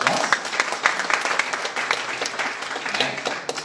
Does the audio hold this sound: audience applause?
yes